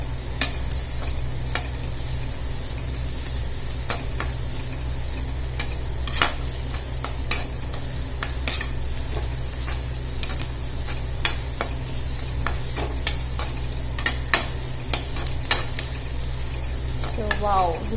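Finely chopped capsicum fries in a pan with a steady, close sizzle, while sharp scrapes and clicks of a spoon stirring break through at irregular intervals.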